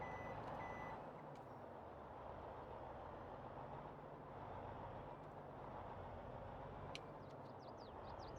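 A truck in Farming Simulator 22 backs up, its reversing alarm beeping steadily over the low rumble of the engine, with a few brief higher chirps near the end and no voices.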